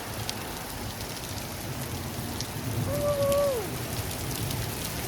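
Rain falling on a corrugated zinc roof, a steady dense hiss and patter throughout, with a brief bird-like whistle partway through.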